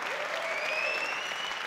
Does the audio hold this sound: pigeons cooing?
no